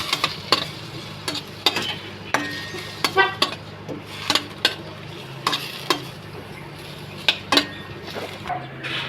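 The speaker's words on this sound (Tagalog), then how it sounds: "Isin din natin tong kamatis. Halu-haluin lang natin." Tomatoes stirred into a pot of ostrich sinigang, with repeated sharp clinks and scrapes of a utensil against the pot over a low simmering sizzle, close up.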